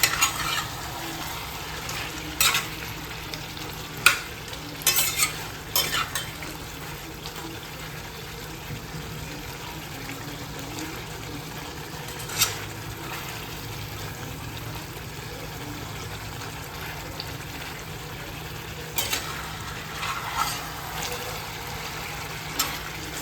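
Chicken being stirred and fried in a pan for kasha chicken, a low steady sizzle with occasional utensil clatters and scrapes spread over a long stretch.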